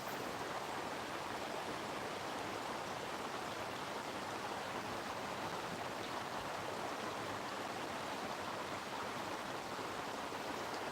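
The River Taff in South Wales flowing steadily, a continuous broad rush of moving water with no breaks and no voices.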